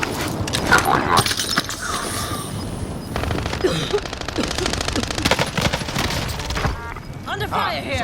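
Automatic and rapid gunfire from the video game Warzone rattles in dense bursts nearly throughout, loud and close, with scattered clinks and game sounds mixed in.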